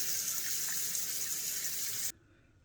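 Water runs steadily from a tap into a sink during washing up, a loud continuous hiss that cuts off abruptly when the faucet is shut.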